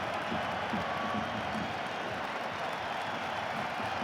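Football stadium crowd at a DFB-Pokal cup match between Bayern and Dortmund, a distant steady roar of applause and murmuring for a player warming up, faint and continuous.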